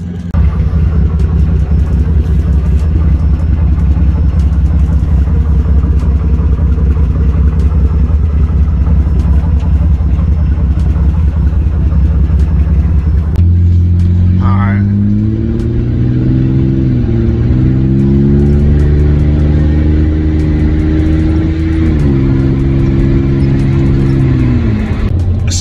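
A straight-piped Ford Ranger with a 4.0 engine drones loudly and continuously as the truck drives, with a deep steady exhaust rumble that shifts pitch midway as it accelerates through gears.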